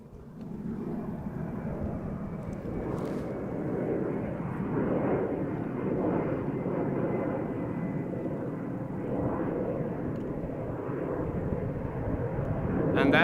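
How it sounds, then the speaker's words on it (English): Finnair Airbus A330 taxiing at Amsterdam Schiphol Airport, a steady broad jet engine rumble and whine holding at moderate loudness throughout, with a faint voice talking underneath. "that is the moving A330 from Finnair by the looks of it, going back to Helsinki"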